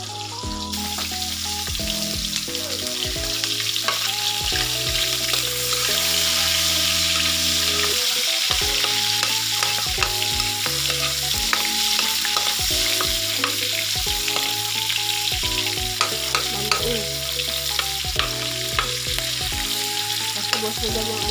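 Milkfish (bangus) frying in a pan gives a loud, continuous oily sizzle with dense popping crackles throughout, close up and steady, with no talking over it.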